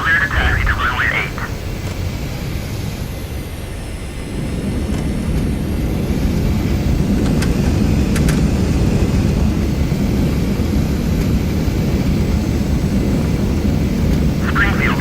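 Saab Viggen jet from DCS taxiing on the runway, a steady low engine rumble and hiss running throughout, swelling slightly after a few seconds, with radio-style voices heard near the start and end.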